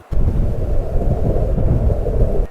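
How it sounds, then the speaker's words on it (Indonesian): Wind rushes in a steady, loud, low roar that starts abruptly and holds for a couple of seconds before cutting off, with no voices. "itu merupakan suara hembusan angin."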